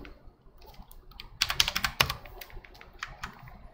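Fingers type on a computer keyboard close by, with a quiet start and then a quick cluster of sharp key clicks, a single hard strike and a few scattered taps after it.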